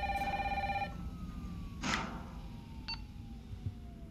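Telephone in the video game Resident Evil 3 Remake ringing with a thin, electronic repeating tone early on, then brief beeps over a low steady game ambience, fairly quiet.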